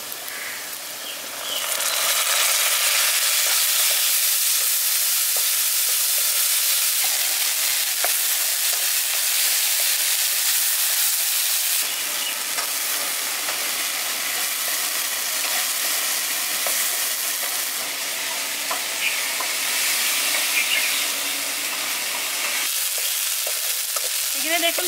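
Onion and ginger-garlic paste frying in a pan for a village-style fish curry, a loud continuous sizzle with occasional stirring scrapes throughout, no voices.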